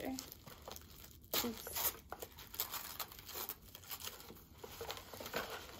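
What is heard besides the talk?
unwrapping paper packaging of a Chanel bag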